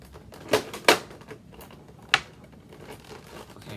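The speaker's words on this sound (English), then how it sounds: "If I can just get this piece of tape." Tape peeled off the packaging of a boxed S.H. MonsterArts Godzilla 2019 figure, three sharp, close ripping bursts with brief pauses between them, and nothing but quiet handling in between.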